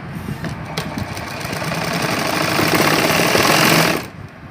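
A sewing machine stitches a lehenga's lining fabric for a bridal lehenga, running steadily and close for about four seconds before cutting off sharply.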